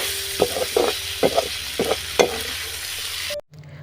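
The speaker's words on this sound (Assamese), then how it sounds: "এইখিনি এতিয়া পিয়াজৰ সৈতে ভালকৈ লৰাই লওঁ" Chicken liver marinated with chili powder being stirred and fried with onions, a loud close sizzle with repeated scraping stirs at a steady rhythm before an abrupt cut to quiet.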